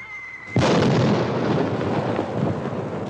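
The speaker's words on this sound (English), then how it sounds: "That ain't thunder, that's cannon fire." A single heavy cannon shot booms out in the hills, a sudden loud blast followed by a long rolling rumble that fills the rest of the moment.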